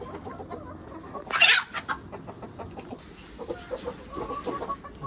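Backyard native chickens cluck softly and steadily nearby, with one louder burst of calling partway through, in an otherwise quiet outdoor setting.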